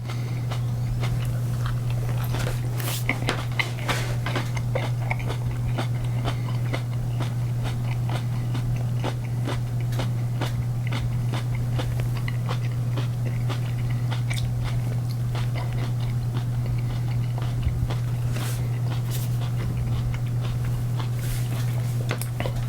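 Repeated crunchy bites and chewing of a juicy Purple Moruga chili pod, an off-phenotype superhot pepper, close and crisp over a steady low hum, with no talking.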